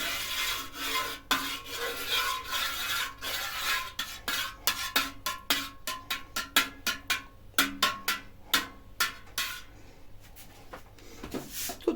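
Knife slicing through set sheep's-milk brynza curd in a pot of whey, a run of short scraping and tapping strokes that quicken into a steady rhythm, close and fairly quiet.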